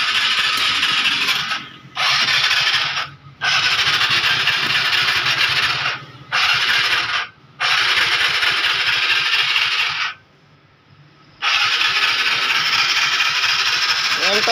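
A TVS Ntorq scooter with a starting problem is cranked repeatedly with the throttle raised, giving loud whirring starter bursts broken by short pauses and one longer gap.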